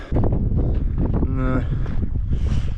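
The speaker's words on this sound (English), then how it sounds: "Get out of this wind." Wind at a hilltop campsite in the Peak District roars steadily into the microphone as a loud, low rumbling buffet, with a voice speaking briefly over it.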